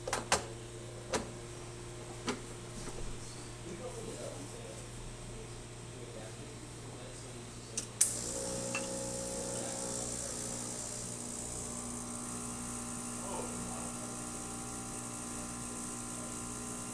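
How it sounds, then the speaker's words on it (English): Rancilio Silvia espresso machine pulling a test shot: after a few clicks and knocks, the pump starts up into a steady loud hum with a higher whine, continuing alone to the end. "So I'm just going to pull a shot to show you that the machine is working."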